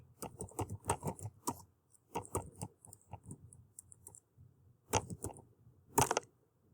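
Computer keyboard typing as a prompt is entered, clustered bursts of quick, crisp key clicks with short pauses between, close and fairly quiet, with no talking.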